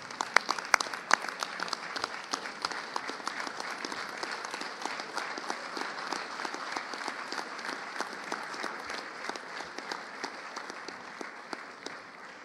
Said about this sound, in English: Please stand up and give your family and friends a round of applause.